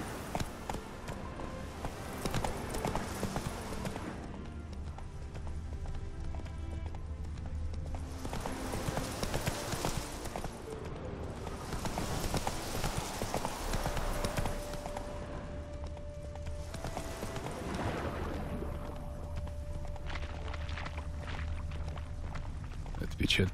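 In the video game The Witcher 3, a horse gallops, its hooves clip-clopping in a steady, continuous rhythm that swells and fades over other game sounds.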